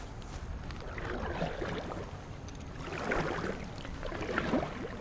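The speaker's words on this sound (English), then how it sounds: "I'm actually going to pick this thing up and start paddling away from this seawall" Kayak paddled away from a seawall on a lake, soft repeated splashes and water swishes from the paddle strokes, fairly close, over light wind noise with no talking.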